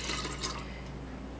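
Melted coconut soy wax pours from a container into another vessel during candle making, giving a faint, brief liquid trickle and drip that fades after about half a second, with no talking.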